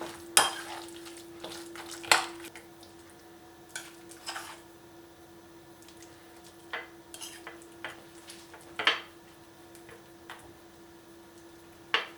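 A spoon stirring strained yogurt with mashed eggplant for a tahini eggplant dip, soft scattered clicks and taps of utensil against the bowl over a quiet background hum.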